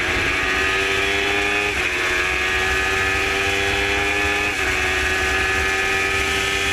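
Formula Gulf single-seater race cars accelerate down toward the final corner of a circuit, a loud, continuous, high engine roar with slight pitch shifts as they pass.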